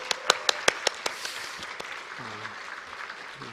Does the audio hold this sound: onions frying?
no